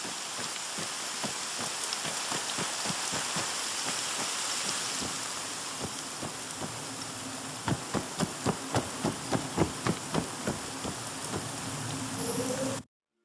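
Steady, dense rain pours down in the video game ARMA III, a close broadband hiss that runs unbroken, with a rhythmic series of sharp tapping drips striking a surface partway through, all heard without speech.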